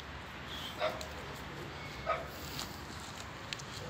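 Dogs in an Egyptian street setting give two sharp, distant barks about a second apart, then a few fainter yips and whimpers over steady outdoor background noise.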